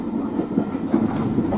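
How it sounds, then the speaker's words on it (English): A train rumbles past nearby with a steady low roar and faint rhythmic clatter, no voices. "Oh, a train"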